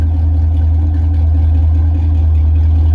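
A Pontiac G8 GT's V8 engine idles steadily with a deep, loud rumble that holds constant throughout.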